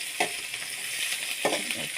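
Spices for tempering sizzle and fry in hot oil for a maize flour upma, a steady hiss with two sharper crackling bursts near the start and later.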